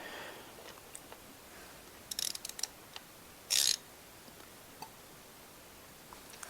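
A ratchet wrench tightens a camshaft bolt on a Volvo 2.5T engine: a short burst of quick metallic clicks, then a brief harsh ratcheting rasp, close up over faint background hiss.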